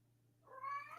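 A single close cat meow rises and swells over about half a second, alone against quiet room hum.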